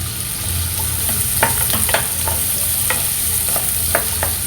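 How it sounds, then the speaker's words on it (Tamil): Beans, carrot and onion fry in a pan for chicken rice, a steady close sizzle broken by a run of scraping spatula strokes as the vegetables are stirred. "இதோடு சேர்த்து நல்லா கொஞ்சம் வறுத்துக்கலாம்."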